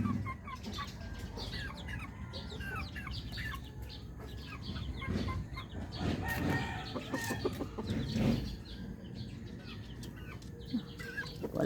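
Chickens clucking at close range in a farmyard, with a hen and her chicks: steady overlapping clucks and chirps, now and then a distant rooster crowing, and no voices.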